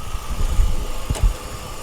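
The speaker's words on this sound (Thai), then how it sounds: "ดูห้องเครื่องกันเลยนะครับนี่เสียงเครื่องเงียบมากเลยนะ" A 2006 Toyota Vios engine idling with the hood open, a steady low rumble with a faint clicking tap partway through, no talk.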